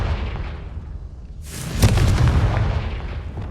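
A Confringo spell in the Hogwarts Legacy video game detonates in a single loud, deep boom with a sharp crackling burst, rumbling and fading over the following seconds.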